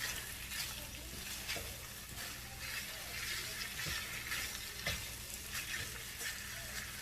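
Smoked sausage and cabbage with a little spinach sizzle steadily in a hot pan, a soft continuous frying hiss with occasional stirring clicks and scrapes against the pan.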